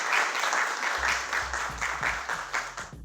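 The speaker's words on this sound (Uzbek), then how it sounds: "Mana bu qarsaklar sizlar uchun." A studio audience at a live televised music performance on Xorazm TV applauds with a steady, dense clapping that continues throughout at a moderate level.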